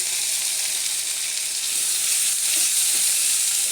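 Broiler chicken frying in a pan with coriander powder, ginger and garlic gives an even, close, continuous sizzle with soft stirring and no talk.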